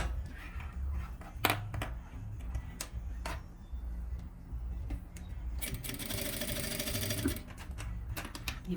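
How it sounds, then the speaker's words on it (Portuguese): A sewing machine stitches the side seams of a luxury toiletry bag in short bursts of rapid mechanical chattering, with pauses, clicks and fabric handling between runs and one longer stretch of steady stitching, heard close and alone. "Agora eu vou passar a costura nas duas laterais aqui."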